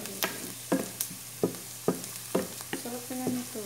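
Onion and garlic sautéing in a pan, marked by a regular series of spatula scrapes about every half second over a low sizzle, close and moderately loud.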